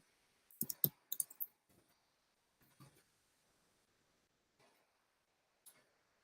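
A computer mouse clicks on a link, giving a few quick close clicks in a tight cluster early on, then isolated faint clicks spaced out across an otherwise quiet room.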